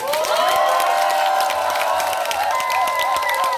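An audience at a janggu drum contest claps and cheers loudly, with children's high shouts and screams riding over a dense, steady wall of applause.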